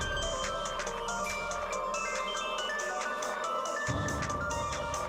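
A mobile phone rings indoors in a Tamil TV drama scene, a repeating electronic ringtone melody that plays on steadily with no voices.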